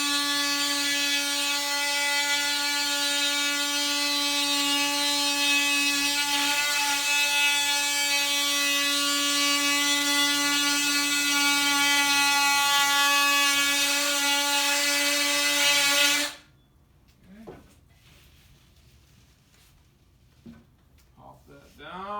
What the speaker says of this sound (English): It's called an oscillating tool. And I'm just going to trim right down this line.